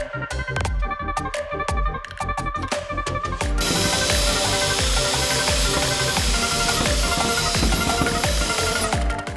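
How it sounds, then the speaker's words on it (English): A few sharp knocks, then a drill with a paint removal disc spins up into a steady, loud grinding whine as the disc strips paint from an aluminum jon boat, running continuously to the end. "Next thing I tried was this paint removal disc and a drill."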